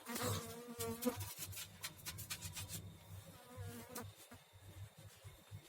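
Bees buzz close by in a low, wavering drone, accompanied by soft rubbing and tapping sounds.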